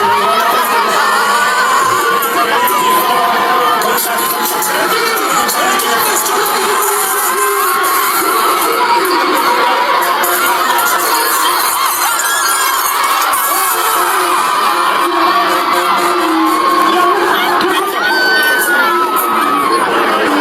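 A huge crowd of more than 20,000 at a dancehall concert in Guyana cheers, shouts and screams loudly and continuously, a dense roar with high squeals rising above it.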